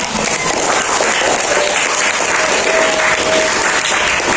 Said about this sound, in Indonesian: Tepuk tangan untuk Bian